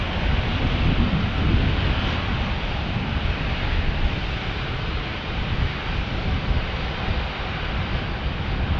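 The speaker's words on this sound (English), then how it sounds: "Delta Airlines A321." A Delta Airlines A321 airliner roars steadily at close range, a broad, loud jet rumble mixed with wind buffeting that holds for several seconds without talk.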